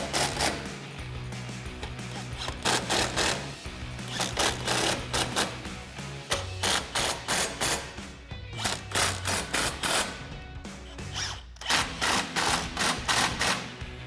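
A 16mm socket and wrench tightening grille guard bolts on a 2016-2023 Toyota Tacoma, giving rapid, loud ratcheting clicks in repeated bursts with brief pauses between them.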